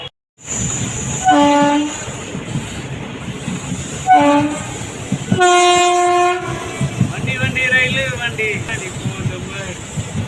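Train horns blare in several long blasts over the rumble of a railway station, with people talking and moving nearby.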